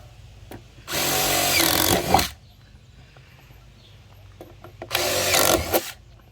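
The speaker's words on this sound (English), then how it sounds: "just drill your hole in all of them" A power drill whirs through a plastic barrel in two short bursts about three seconds apart, with quiet background in between.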